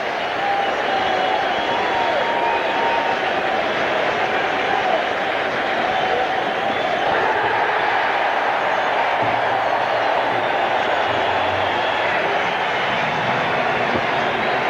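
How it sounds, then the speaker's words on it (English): A baseball stadium crowd at a Mets home game against the Astros roars in a dense, sustained wash of cheering and applause that stays loud throughout, with a voice faintly underneath. "Now the crowd really gets going as the Mets are 1 strike away from victory."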